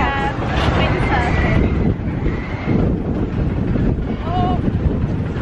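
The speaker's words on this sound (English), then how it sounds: "It's a bit windy, isn't it?" Gusty wind roars and buffets the microphone, a low rumbling rush, while people chat over it on a seaside pier.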